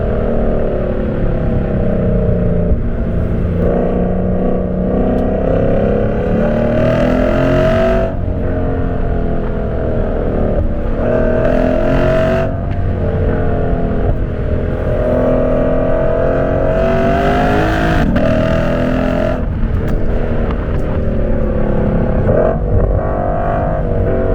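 A Lexus RC F with a loud exhaust is driven hard on curvy roads, its engine roaring steadily as it revs up and drops back through several cycles, loud and close throughout with no talk.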